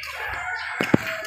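A rooster crows briefly at close range, with a short clucking note near the end.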